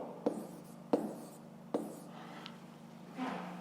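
Pen or pencil strokes scratch across paper while a math exercise is worked out, a few separate bursts of writing spaced about a second apart, close and fairly quiet, with no talking.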